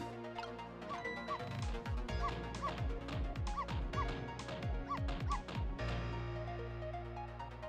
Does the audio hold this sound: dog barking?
yes